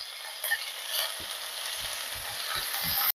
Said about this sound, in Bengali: চিকেনটা দেওয়ার পরে আমরা এটা 2-3 মিনিট ভালোভাবে একটু ভেজে নেব।